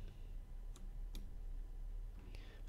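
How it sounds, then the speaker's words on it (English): Dice rolled during a random team break for 2014 Panini National Treasures baseball cards, heard as a few sharp, brief clicks and rattles scattered across a steady low background hum, fairly close. "So let's roll the dice again."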